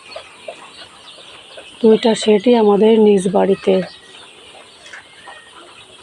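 Broiler chickens in a poultry shed at a home farm make faint, scattered clucks in the background while someone talks steadily in the middle of the stretch.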